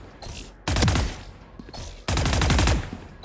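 Two bursts of rapid automatic gunfire from a weapon in the Valorant video game, each about a second long and loud, separated by brief pauses, with no talking.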